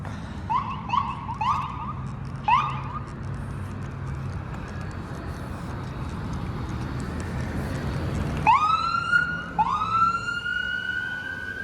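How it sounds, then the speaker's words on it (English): An ambulance siren wails over steady street traffic on Wilson Avenue in North York, Toronto, growing louder as it approaches, its rising tone sweeping up repeatedly near the end. "And now there's a siren coming our way, an ambulance."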